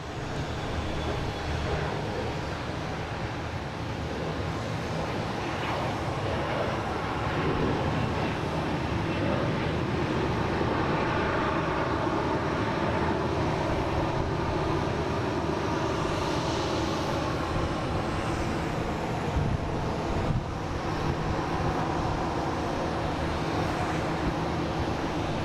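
An Embraer E175 airliner on a Delta flight to Philadelphia at Boston Logan airport makes a steady, broad engine roar that holds for the whole stretch, with faint talk now and then beneath it.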